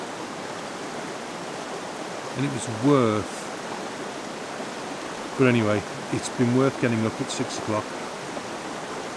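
A stunning river runs over rocks in the Lake District, making a constant rushing wash close by. Someone talks over it in short bursts.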